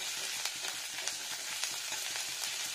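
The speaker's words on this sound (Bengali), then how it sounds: "আদাটা ফ্রাই করবো একটু ভালো করে, কাঁচা গন্ধটা যাতে চলে যায়।" Ginger fries in hot oil as cabbage curry cooking begins, producing a loud continuous close sizzle with regular light stirring ticks repeating roughly every half second.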